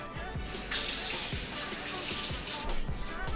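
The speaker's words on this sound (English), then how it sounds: "rinse it out so the seeds can get out" Tap water runs steadily while a bell pepper is rinsed out to clear its seeds, a close hiss of flowing water that gets louder partway through as the stream strikes the pepper, with no talking.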